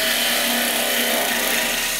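Dry wood spinning on a lathe while a bowl gouge cuts it gives a continuous loud, rough scraping whir, steady and close, with no talking.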